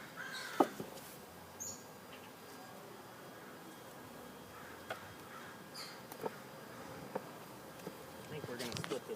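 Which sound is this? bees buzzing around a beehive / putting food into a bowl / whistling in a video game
bees buzzing around a beehive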